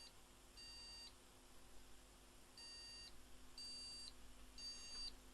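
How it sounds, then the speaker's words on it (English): A Gigabyte motherboard sounds four beeps for missing RAM. Each is a thin, steady electronic tone about half a second long, spaced unevenly and fairly faint over a low background hum. "she's beeping to say there's no RAM"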